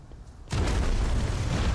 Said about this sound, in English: The blast consumes the ancient weapon.